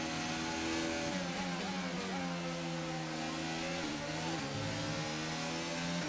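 An F1 car in F1 22 accelerating while overtaking, a steady high engine whine that climbs and shifts pitch through gear changes, continuous and fairly close with no talk.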